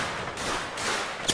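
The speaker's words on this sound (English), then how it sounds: "Cannon round." Cannon fire rumbles through a Mount & Blade: Warband Civil War mod battle, a dense rolling boom of distant and overlapping blasts, with a sharper report near the end.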